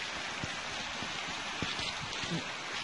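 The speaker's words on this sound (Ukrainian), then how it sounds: "Річечка тече." A small river in the Carpathian mountains flows in a soft, continuous wash with scattered gentle trickles and splashes, faint and steady, with no voices.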